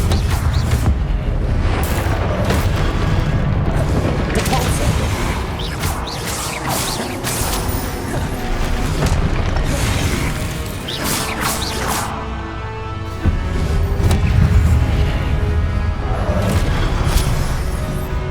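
Spell casting in the video game Hogwarts Legacy, with repeated booming explosive impacts, crashes and whooshes, dense and loud throughout with no clear gaps.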